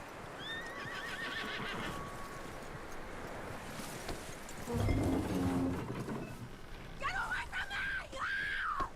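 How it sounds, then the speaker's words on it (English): A horse whinnies in bursts with hoofbeats clopping underneath, alongside a steady background rumble and some muffled activity mid-way, in the video game Red Dead Redemption 2. "That looks like a decent horse."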